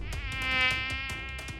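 A mosquito whines close to the ear, a thin high-pitched buzz that holds steady and swells slightly in loudness as it hovers nearby.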